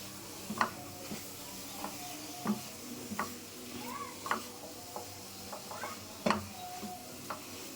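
Coconut and jaggery mixture for naru being stirred in a pan, a spatula scraping and tapping in irregular sharp strokes roughly every half second over a soft sizzle, close and clear.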